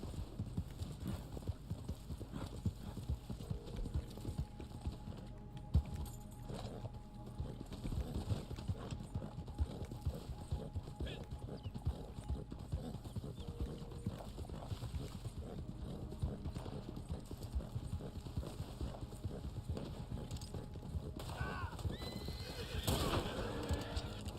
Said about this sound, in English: Oh no, he's on a horse, okay.